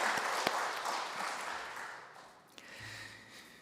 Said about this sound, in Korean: 우리 함께 격려의 박수 한번 하실까요?